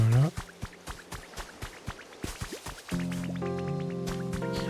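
Liquid drips and squishy splashes of water being placed in the Pokémon Pokopia video game, a run of quick watery plops followed by a steady tonal game chime layer, alone without talk.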